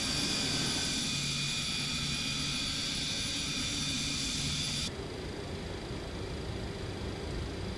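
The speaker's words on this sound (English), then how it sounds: "Gears coming down." Steady loud jet engine roar inside a Boeing 727 cockpit in a flight simulator game, with a sudden shift in tone partway through as the landing gear comes down, no talking.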